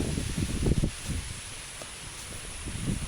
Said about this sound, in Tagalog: Medyo mahangin nga lang rito sa amin.